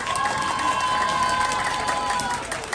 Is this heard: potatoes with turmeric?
no